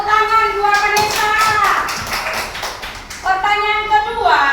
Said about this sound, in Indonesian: tepuk tangan buat Vanessa